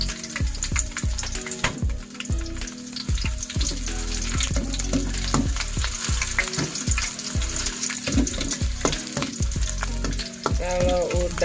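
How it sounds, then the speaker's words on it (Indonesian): Shallots fry in hot oil for an Acehnese stir-fried anchovy dish, with a loud, steady sizzle and crackle and repeated knocks of stirring throughout, and no talking. "Minyaknya udah panas, kita goreng dulu bawang merahnya biar dia"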